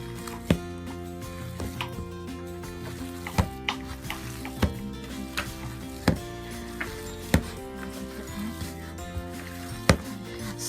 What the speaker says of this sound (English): So now, you mix in all the seasoning.